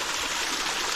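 A small mountain stream on the Appalachian Trail rushes and babbles close by, a loud, continuous watery hiss with no voices over it.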